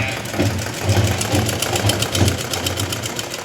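A sewing machine stitches a blouse with a steady, rapid mechanical chatter that runs continuously throughout, close and fairly loud.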